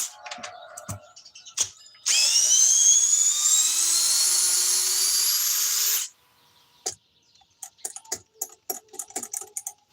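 A weak power drill on its lowest speed setting, used to remove something, runs steadily with a high, slightly rising whine for several seconds, then cuts off, leaving scattered clicks and taps.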